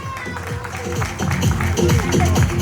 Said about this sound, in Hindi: एसके मित्तल जी सर स्वागत करते हुए एक बार जोरदार तालियां।